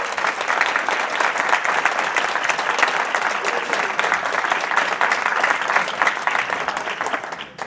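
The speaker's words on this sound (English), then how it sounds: "Let's give the doctor, let's send him virtually an applause." An audience at a medical symposium applauds a winning doctor, steady dense clapping held at an even level throughout, fairly close and without talk over it.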